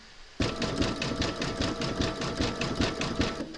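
An embroidery sewing machine stitches a satin stitch applique outline in a fast, even mechanical chatter that starts abruptly and runs steadily up close, with no talk over it.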